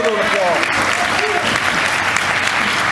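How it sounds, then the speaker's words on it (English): Applause from an audience at a society breakfast greets guests as they are introduced, a steady, dense clapping that fills the room and holds at full strength for several seconds. "they all deserve an applause"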